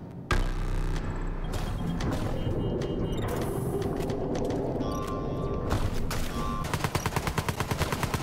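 Boss in the side-scrolling game Farworld shooting bullets: dense, loud gunfire-like bursts pour out continuously, ending in a rapid pulsing string of shots.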